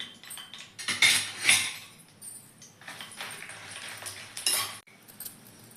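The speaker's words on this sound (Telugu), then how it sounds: "దానిలోనే ఒక స్పూన్ ధనియాలు, 2 స్పూన్ జీలకర్ర వేసుకొని వేయించుకోవాలి" Dried red chillies, coriander seeds and cumin roasting in oil in a pan for a horse gram spice powder, with close metal spoon scrapes and clinks against the pan over a light sizzle, in several bursts.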